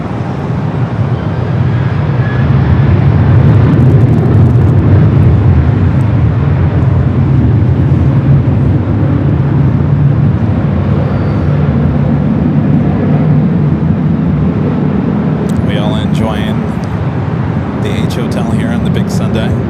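Flight 591 jet departing runway 4 left at LAX in Los Angeles, a deep rumbling engine roar that swells early and then slowly eases, with faint higher chirps near the end.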